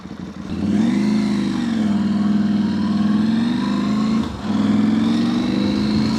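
A KTM 790 Adventure motorcycle pulls away in first gear on a Yorkshire green lane, its engine a loud, steady, close drone with a brief dip partway through before the note picks up again.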